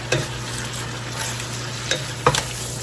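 Cabbage seasoned with pepper fries in a pan under a steady sizzle, with a few distinct scraping stirs and utensil knocks close by and no speech.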